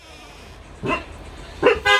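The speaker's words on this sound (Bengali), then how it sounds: "অ্যাঞ্জেল, মঞ্জুলিকা, মঞ্জুলিকা ঘেউ দে।" A pet dog gives a couple of short, sharp barks close by in a quiet room, separated by a pause, with a louder final bark at the end.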